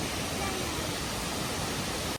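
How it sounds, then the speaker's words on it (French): Plitvice waterfall in Croatia roars as a steady, dense wash of falling water, even and unbroken from start to finish, heard up close. "Il y a le ruisseau et après, bam, la cascade"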